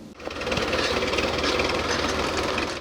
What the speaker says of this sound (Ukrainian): Наразі сюди вийшли трактори, аби підготувати її під створення нового лісу, прибрати бур'яни та переорати ділянку.